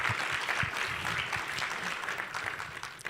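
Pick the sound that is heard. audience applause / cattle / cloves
audience applause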